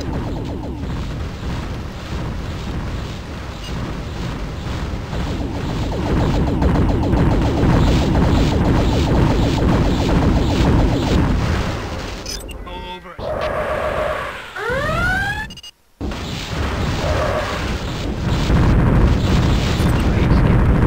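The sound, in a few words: ship explosions in video game EV Nova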